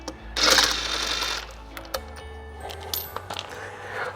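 Wheel bolts being loosened and removed on a Porsche Macan Turbo, a sustained mechanical whirr from a power tool for about a second and a half, followed by scattered metallic clinks and taps, close and moderately loud.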